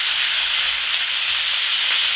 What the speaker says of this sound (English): Do not stir it, just allow it to sear at this point.